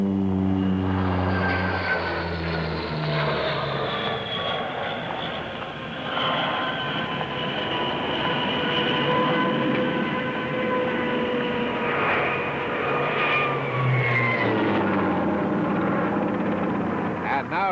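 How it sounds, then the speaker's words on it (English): Avro 748 twin-turboprop airliner taking off on one engine at the Farnborough air show, a loud, steady propeller drone with shifting engine tones that holds throughout and swells again near the end. "The Avro 748 takes off on one engine."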